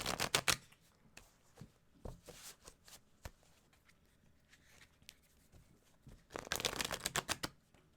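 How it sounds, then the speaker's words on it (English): Tarot cards being shuffled by hand in short bursts of riffling and flicking, close and crisp, with quiet gaps between bursts and a longer riffle near the end. "You shuffled?"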